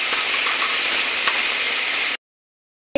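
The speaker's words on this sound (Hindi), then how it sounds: "इतनी देर मेरा प्याज फ्राई होता है" Chopped onions frying in a pan for besan sabzi, a close steady sizzle and hiss lasting about two seconds before cutting to silence, with a brief sound at the very end.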